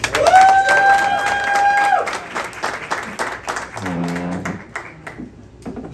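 A Toronto cafe and steakhouse crowd claps loudly in a dense, sustained burst to welcome a singer, with a whistle at the start and cheering and voices mixed in before the applause thins out.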